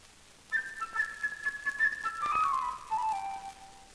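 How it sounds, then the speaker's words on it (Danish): A flute plays the bird's theme from Peter and the Wolf with the London Philharmonia Orchestra, a bright, quick melody of short trilling notes that settles onto lower held tones, clear and alone. "Fuglen kan ikke være andet end en fløjte."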